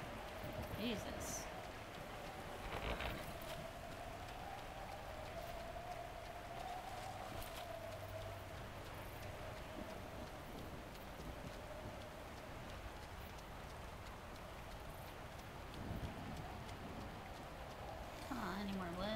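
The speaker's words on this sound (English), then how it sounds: "It is raining right now." Steady rain falls in the video game Bear & Breakfast, an even wash of patter that runs through the whole stretch at moderate level, with a player talking over it now and then.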